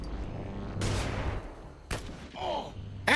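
A flashbang bursts followed by gunfire in the Xenonauts 2 video game, with a few sharp loud bangs separated by short gaps and a ringing, whistling tail after the second blast.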